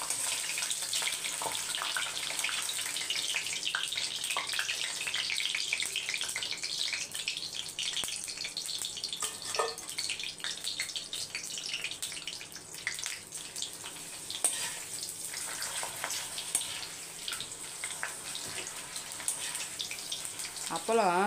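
Appalam (papad), slightly damp, frying in hot oil: a steady, hissing sizzle with faint bubbling that runs the whole time, with a voice speaking now and then over it.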